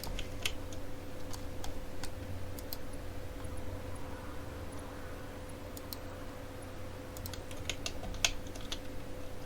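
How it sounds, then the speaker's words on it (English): Conveyor lifts snapping onto a manifold in the factory game Satisfactory produce scattered small sharp clicks, irregular and quick, over a low steady machine hum. "I hope you guys heard that little clicking sound that it made."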